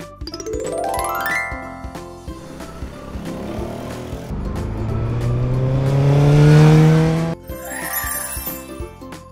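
A scooter engine revs up and hums steadily over light background music, swelling louder before cutting off sharply.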